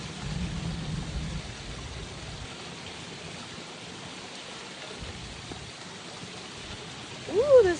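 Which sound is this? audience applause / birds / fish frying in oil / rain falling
rain falling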